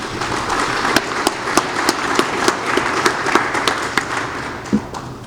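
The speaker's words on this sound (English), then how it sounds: "Let's give them another round of applause, please." Audience applause at a port industry event, a steady wash of clapping from a crowd with a few sharper individual claps standing out, fairly close and sustained for several seconds.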